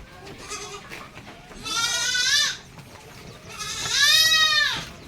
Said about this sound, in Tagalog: Ayan ang ating mga kambing.